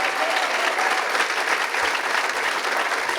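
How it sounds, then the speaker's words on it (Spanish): Church congregation applauding during a Spanish-language service, a steady, dense wash of clapping filling the room for about three seconds at an even, sustained level. "Fuertes aplausos al Señor."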